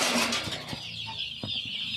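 Chicks and chickens give a few soft clucks and peeps while they feed from containers set out on a farm, with short scattered calls over a quiet background.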